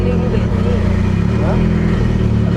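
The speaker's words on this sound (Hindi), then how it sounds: "गाड़ी स्टार्ट तो हो चुकी है, इसकी आवाज़ इतनी ज़्यादा थी" A tuned Mitsubishi Lancer Evolution engine runs just after starting, a loud, steady low rumble that holds at idle without letting up.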